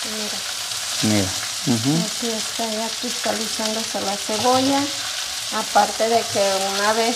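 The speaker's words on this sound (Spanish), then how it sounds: "Aquí está ya cristalizándose la cebolla." Onion frying in a pan until translucent for Mexican carne en su jugo, a steady bright sizzle running underneath a person who talks throughout.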